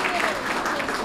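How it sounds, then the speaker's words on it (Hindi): Crowd at a gathering for a commerce academy event applauds loudly and continuously, a dense wash of many hands clapping at once with no pause. "एक बार जोरदार तालियां इनके लिए भी होनी चाहिए।"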